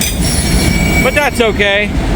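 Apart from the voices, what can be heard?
freight train with auto rack cars passing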